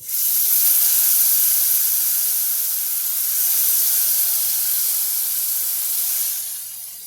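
Steady hissing sizzle as lentils hit a hot pan, loud and continuous throughout, with a bright spray-like texture and no talking.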